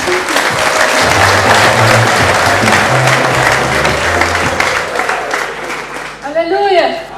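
A church congregation claps and cheers in sustained, dense applause, with a low hum of voices beneath and a singer's held note rising near the end.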